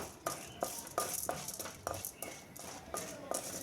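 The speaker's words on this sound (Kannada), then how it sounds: "ಕಡಲೆಬೇಳೆನ 1 ನಿಮಿಷ ತನಕ ಫ್ರೈ ಮಾಡ್ಕೊಳ್ಳೋಣ." Chana dal is fried in a pan for chutney powder, and a spoon scrapes and stirs it in regular strokes, roughly three a second, over a faint dry sizzle close by.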